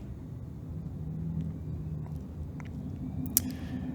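Business jet engines at takeoff power on the runway in Microsoft Flight Simulator, the Longitude: a steady low rumbling roar with faint high whine, constant throughout with a brief click near the end.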